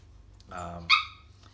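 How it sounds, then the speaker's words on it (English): A dog barks once in the background, a short sharp yelp at moderate loudness, following a brief whimpering or growling sound, in an otherwise quiet room. "It's my dog in the background."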